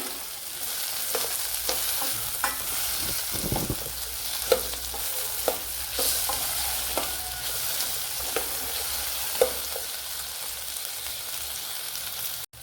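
Shallots and tomato sauté in a pan for a cauliflower curry, giving a steady close sizzle broken by occasional stirring scrapes and knocks, with no voices.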